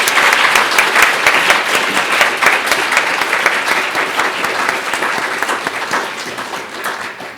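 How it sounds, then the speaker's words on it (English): Sustained applause from a conference audience after a panel session, many hands clapping in a loud, dense wash that slowly tapers toward the end. "So let's give them a round of applause"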